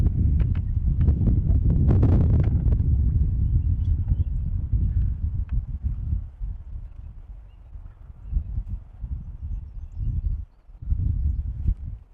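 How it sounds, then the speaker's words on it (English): Wind buffeting a microphone outdoors, a heavy low rumble that gusts strongly at first and then eases into uneven, fluttering puffs. "The wind's out, right over my head."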